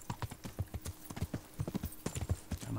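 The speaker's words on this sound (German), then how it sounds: "Dann reiten wir dem mal entgegen." Steady hoofbeats of a horse being ridden in the medieval game Kingdom Come Deliverance, a quick rhythmic clip-clop of repeated thuds with nobody talking.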